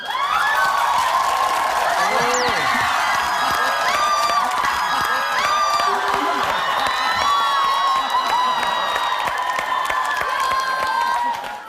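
A TV variety show's studio audience erupts in loud applause and cheering for a contestant, with high-pitched shrieks and whoops rising over constant dense clapping throughout, close and full.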